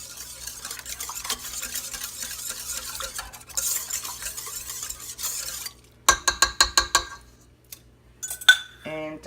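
Mixing sugar into cinnamon roll dough ingredients in a bowl: soft scraping stirring, then a burst of sharp repeated clinks of a utensil against the bowl, close and distinct.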